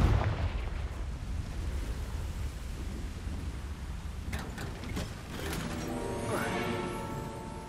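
A Confringo blasting curse from Hogwarts Legacy detonates as a deep booming rumble that rolls on for several seconds, with a sharper crackle of debris near the end.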